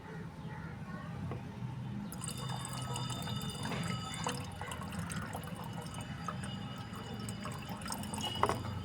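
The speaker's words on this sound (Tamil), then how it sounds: "அந்த ஸ்ப்ரேயரில் இதை ஊற்றுறோம்." Lemon liquid organic insecticide pours steadily into a sprayer, a continuous splashing trickle over a low background hum.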